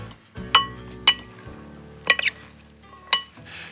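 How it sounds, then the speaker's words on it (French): A utensil mixing a bean and bulgur salad with tomato and oregano in a bowl, giving a handful of sharp clinks and scrapes spaced about half a second to a second apart, close and fairly quiet. "Et on va pouvoir maintenant mélanger notre salade"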